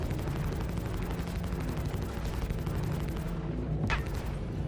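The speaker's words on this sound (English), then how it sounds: "All wrongdoers will perish at the might of my machine guns" Sustained machine gun fire from a ship in the space game Star Citizen, a dense continuous rattle of shots that runs steadily throughout, with a brief sharp burst near the end.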